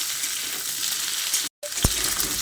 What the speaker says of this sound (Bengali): ডাঁটা আর কুমড়োটাকে দিয়েও আলু আর গাজরের সঙ্গে আরও কিছুক্ষণ ভেজে নিচ্ছি